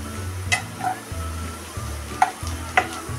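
Ten crushed garlic cloves and an inch of crushed ginger are sautéed with browned onions for vegetable dalcha, giving a continuous close sizzle with a few sharp spoon taps against the pan, and no voices.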